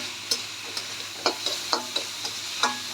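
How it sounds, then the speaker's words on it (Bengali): Chopped tomatoes frying in a pan on a tawa while pulao is being made. Soft, intermittent stirring clicks and light sizzling come in an irregular rhythm with no talk over them. "টমেটোটা দিয়ে ভালো করে আমি একটু ভেজে নেব।"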